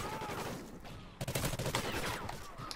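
Rapid gunfire in a video game shootout, a dense crackling volley that grows louder midway and mixes with game effects, with a voice talking over it.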